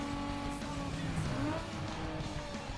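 Engine braking from a street car in the racing game Need for Speed Underground 2: a steady, loud engine drone with harmonic tones sliding downward as revs fall, with faint tire noise mixed in.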